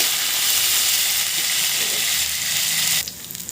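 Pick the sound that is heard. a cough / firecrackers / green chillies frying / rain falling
green chillies frying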